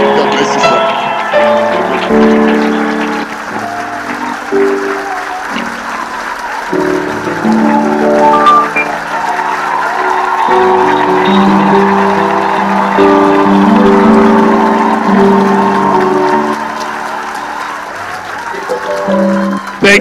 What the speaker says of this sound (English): Keep clapping, keep clapping